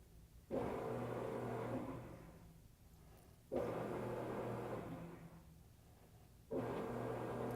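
A washing machine in agitate mode during a diagnostic test runs in repeating cycles: the motor surges on with a low hum and whir, winds down, pauses briefly, then starts again, three times in a row.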